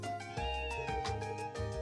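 A kitten meows repeatedly in the Trails from Zero video game, several close, clear mews in quick succession over a steady background game soundtrack.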